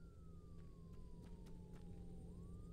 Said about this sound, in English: Okay, I hear the sirens.